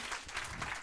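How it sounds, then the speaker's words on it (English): Brief burst of audience applause for Linda and Margarita at a women-in-cybersecurity event, a steady wash of many hands clapping at moderate level with no talk. "please give a hand applause to Linda and Margarita online"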